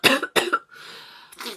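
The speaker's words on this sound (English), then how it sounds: "I'm gonna cough." Two sharp coughs in quick succession, loud and close, followed by a raspy exhale and a softer throat-clearing sound at the end.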